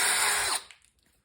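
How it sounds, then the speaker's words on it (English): A power drill whines loudly as it cuts off a weld on a 1978 Ford Bronco brake bracket, its pitch dropping as it spins down and stops halfway through, then faint clinks follow in near silence. "All right, so the weld is drilled off of there."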